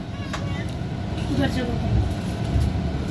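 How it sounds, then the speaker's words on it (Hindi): The Telangana Express pulls out of Secunderabad railway station, heard from on board as a steady, rolling low rumble of rail cars under the talk of a voice nearby. "सिकंदराबाद रेलवे स्टेशन से 45 मिनट पे हम लोग रवाना हो रहे हैं तेलंगाना एक्सप्रेस"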